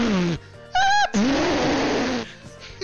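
A VRChat player imitates a bird call with their voice, giving a brief high, squeaky whistle-like chirp between other nasal vocal noises, close to the mic.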